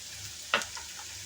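Onion, sweet corn and carrot sizzle softly and steadily in a pan for a sprouts fry, with one quick clink or stirring stroke partway through.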